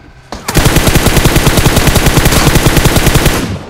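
Rapid sustained automatic gunfire in a battle royale shooter match, a loud, dense burst of evenly spaced shots lasting about three seconds after a brief quiet start, with no talk over it.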